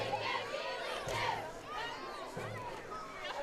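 Crowd noise from home-side fans at a high school football game, a steady hubbub of cheering and chatter with a few louder bursts, under a distant announcer's voice.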